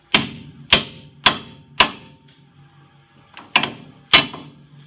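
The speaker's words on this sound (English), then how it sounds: "we're just going to remove this one with a hammer" Six loud metallic hammer blows ring out against a truck suspension ball joint, four in quick regular succession, then a pause and two more, each with a brief ringing decay.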